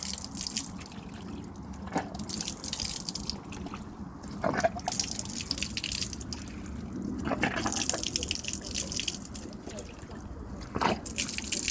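Running water rinsing a horse's sheath, a continuous trickle and drip with periodic splashes and sponge squeezes falling at close range, moderately loud and without speech.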